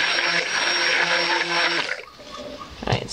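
A blender whirs steadily as it mixes oils with lye solution for cold-process soap, a loud droning motor for about two seconds before it cuts off, leaving quieter handling noises and a brief clatter.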